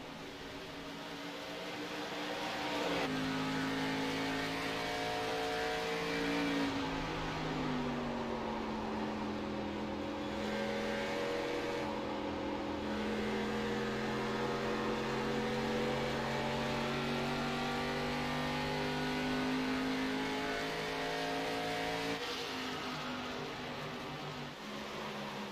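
Race cars in the iRacing video game battle at Worldwide Technology Raceway, with a continuous high engine drone whose pitch climbs and falls through gear changes, steady and loud without pause.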